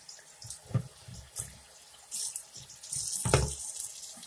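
Tap water runs intermittently into a sink while old My Little Pony toys are washed, with short splashing bursts and a louder steady stream toward the end, close and fairly quiet.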